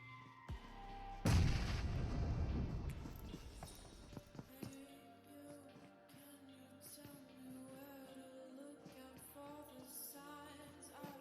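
A grenade goes off with a loud boom early on in a competitive shooter video game scrim, and Molotov fire and scattered gunfire and footsteps follow, all without talking.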